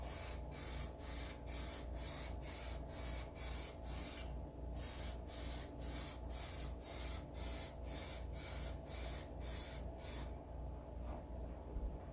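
An aerosol can of Plasti Dip Clear mists a second coat onto window glass in quick, even bursts of hissing spray, repeated steadily with a brief pause partway through, close and loud.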